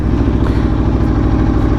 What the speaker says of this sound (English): let's get some Akrapovic full exhaust system audio for you guys